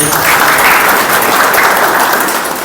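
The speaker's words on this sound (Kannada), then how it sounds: "ವಿಜಯಪುರ ನಗರದ ಮಹಾಪೌರ ಶ್ರೀ MS ಕರಡಿಯವರಿಗೆ ಕೂಡ ಚಪ್ಪಾಳೆ ಹಾಕಬೇಕು" Loud, dense applause from an audience at a felicitation event honouring an award recipient in Vijayapura, steady clapping filling the whole stretch close to the microphone.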